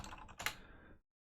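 Brisk typing on a 75% computer keyboard with 87-plus keys and extra macro keys, a close, rapid clatter of keystrokes lasting about a second before cutting to silence.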